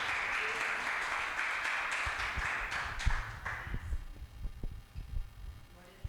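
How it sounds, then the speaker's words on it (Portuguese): A church congregation applauds at a Sunday family service, a dense wash of clapping that fades after a few seconds and leaves a low hum with scattered soft thumps. "Salva de palmas, Senhor."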